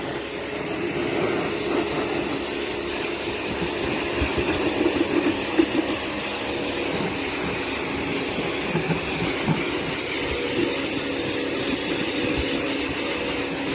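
A Karcher K3 pressure washer sprays down an MF 5711 tractor, giving a steady, loud broadband hiss and rushing wash noise with a constant motor drone running without pause throughout.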